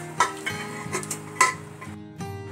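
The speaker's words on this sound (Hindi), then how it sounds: "तड़के में मैं दाल ऐड कर रही हूँ सारी।" Dal is poured into a hot oil tempering with a brief sizzle, followed by clinking and stirring against a pot, with no talking.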